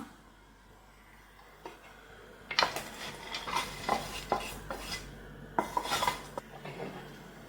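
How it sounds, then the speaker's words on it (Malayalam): A spoon stirs a thick jackfruit mixture with cashews and raisins in a pan, making a run of close scraping and clinking strokes that start after a quiet lead-in, with no talking. "ഇങ്ങനെ ഇളക്കി നന്നായിട്ട് ടൈറ്റാക്കി എടുക്കണം."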